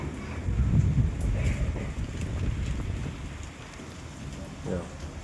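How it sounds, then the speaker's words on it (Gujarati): Heavy storm rain pours with gusting wind outside a shop after dark, a dense steady roar with rumbling low buffeting, and a voice talks over it. "હવે ભાઈ વરસાદ વધી ગયો છે અને પવન ઘટી ગયો છે"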